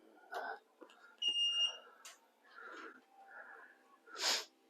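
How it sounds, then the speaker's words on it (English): A single steady electronic warning beep from a Saris powered eBike rack as it lowers, with a harmonic overtone, sounds briefly amid soft clunks and rustling, followed by a burst of hissy noise. "you do get a beeping sound to let you know and remind you that it is powered up and moving"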